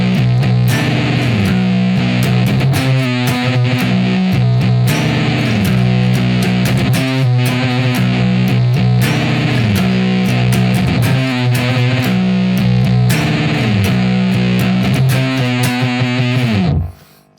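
A stoner rock riff on heavily distorted electric guitar, combining chords with groovy octave lines and slides, loud and sustained with a steady repeating pattern before ringing out at the end.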